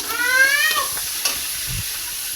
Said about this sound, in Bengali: এবার তেলটা তো ভালো গরম হয়ে গেছে, এতে চিংড়ি মাছগুলো দিয়ে দেবো